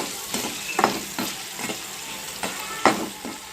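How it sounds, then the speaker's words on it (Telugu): Corn kernels frying in a pan for a crispy snack, a steady sizzle broken by several scraping stirs at a loose, uneven rhythm, close and fairly loud, with no voices. "బాగా వేయించండి, కొంచెం బ్రౌన్ కలర్ వచ్చే వరకు వేయించండి."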